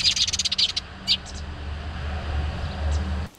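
House sparrows squabbling at a garden bird feeder stocked for tits and sparrows, a burst of sharp, close chirps and cheeps that fades into a duller background rumble.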